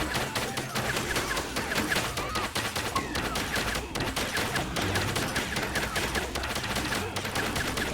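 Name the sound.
gunfire from a video game, shooting at a target's head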